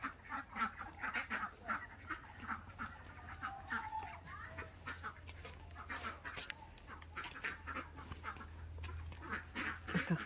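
Ducks quacking repeatedly in a rural rice paddy in the Philippine province, fairly faint and mixed with other fowl calls and outdoor background noise, steady throughout.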